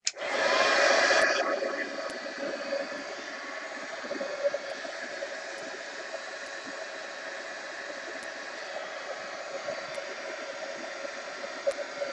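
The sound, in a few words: heat gun drying paint on art journal page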